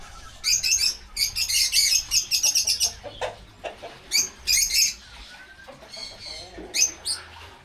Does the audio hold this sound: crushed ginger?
no